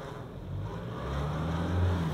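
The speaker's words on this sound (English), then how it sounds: "Here we go, onto the throttle again." A 2024 Toyota HiLux GR Sport pickup's engine revving off-road, a low droning note that climbs steadily in pitch and loudness over a couple of seconds, heard alone without talk.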